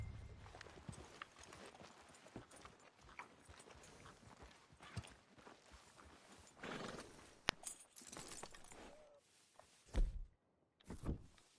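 Horse hooves clip-clop steadily on the ground in the video game Red Dead Redemption 2, with a horse snorting and whinnying, a few heavy thunks, and game ambience.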